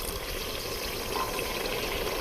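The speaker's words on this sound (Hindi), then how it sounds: "अब थोड़ा सा पानी ऐड करेंगे" Water poured into a pot of achari gosht with softened tomatoes, a steady continuous splashing pour lasting the whole stretch, close and fairly loud.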